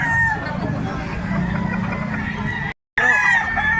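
Black-legged native chickens cluck and call at a market or sale, close and busy, with a crowd's babble and voices talking throughout and a brief dropout near the end.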